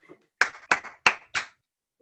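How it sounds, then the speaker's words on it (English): Four sharp, separate hand claps at a small online training meeting, close and fairly loud with short gaps between them, then silence. "So big clap for Tony."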